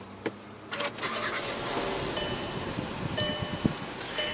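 A 1.8-liter turbocharged four-cylinder engine in a 2015 Volkswagen Jetta with push-button ignition runs at a steady idle, a continuous hum with a few light clicks and mechanical ticks over it, no talk.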